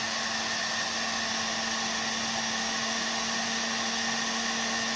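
Bosch GHG 180 heat gun running steadily, a continuous airy blower roar with a constant motor hum, close and unchanging throughout with no other sounds.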